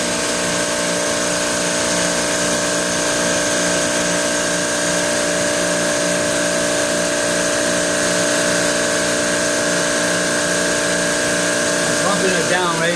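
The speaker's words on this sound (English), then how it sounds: "I'm pumping it down right now" An old Carrier reciprocating compressor pumps down a refrigeration system with a steady, loud, continuous mechanical drone and hum that stays unchanged throughout.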